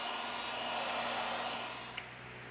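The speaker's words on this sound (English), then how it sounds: "We apply heat to the device to remove the battery cover." A hot-air tool blows a steady, even rushing hiss onto an Oppo A72 phone to loosen its battery cover, close and constant, with a small click near the end.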